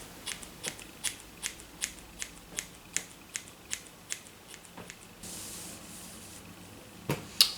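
Hair being point-cut with scissors, a series of crisp, evenly spaced snips close by and fairly quiet, followed by a short rustle and a final pair of snips.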